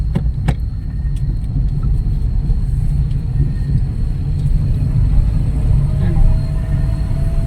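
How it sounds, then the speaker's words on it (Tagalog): A bus on a rough provincial road in Quezon, Philippines, with its engine brake engaged, giving a steady loud low rumble and drone that holds throughout, with a few faint clicks and knocks on top. "Anong engine brake? Ay,"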